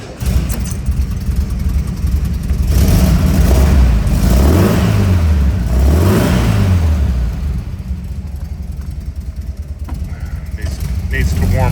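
A 1966 Volkswagen Beetle engine running while it warms up, a steady low mechanical drone throughout with a couple of mild throttle swells near the middle, heard close and loud.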